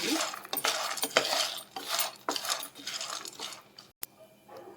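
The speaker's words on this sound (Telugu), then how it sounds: "పొట్టు తీసిన వెల్లుల్లి రెబ్బలు యాడ్ చేసుకొని ఇలా మిక్స్ చేసుకోండి." Peeled garlic cloves are stirred into peanut chutney in a pan, with a spoon repeatedly scraping and clinking against the metal in uneven strokes, close and fairly soft.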